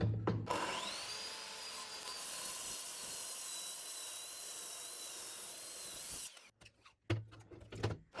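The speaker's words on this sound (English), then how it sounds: "My small miter saw managed that only in 2 passes" A small miter saw cuts off hardened epoxy overfill with a loud, sustained high whine and grinding rasp. The blade then spins down into a few scattered knocks and clatters.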